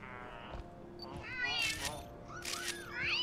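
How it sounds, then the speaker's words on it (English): Sylveon from a Pokemon video game gives a high, warbling meow-like cry in several short rising and falling calls over a steady low game hum, with someone talking briefly. "It just meowed!"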